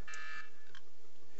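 Timer warning beeps from the video game Super Seizure World: a short bright electronic buzz-tone burst near the start, then a fainter second blip, with low background hum.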